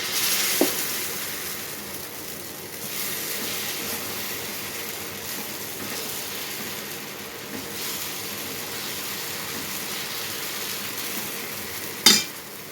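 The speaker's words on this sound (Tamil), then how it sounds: "கல் நல்லா காஞ்சிருச்சு. இப்போ தோசை ஊற்றிக்கலாம்." Dosa batter sizzles steadily on a hot griddle, a continuous close frying hiss with faint stirring texture and one sharp clink near the end; no talking.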